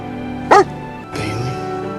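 A dog barks once in a movie scene, a single loud, sharp bark over steady background music, followed a moment later by a broad, noisy swell of sound.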